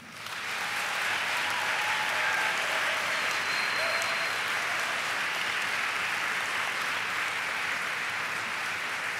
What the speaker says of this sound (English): I ask you to demonstrate your appreciation by applauding the faculty seated